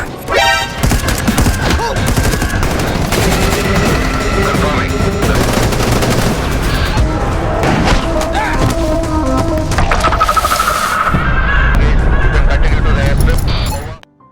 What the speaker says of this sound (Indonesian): pas membawa si Joni, mobil mereka diberondong peluru. Dor